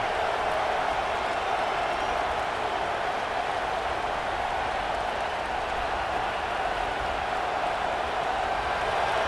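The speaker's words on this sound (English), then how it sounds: "This crowd trying to make life miserable for this offense." Stadium crowd noise from the EA Sports College Football 26 video game: a steady, dense roar that holds at an even level for the whole stretch, with no breaks or swells.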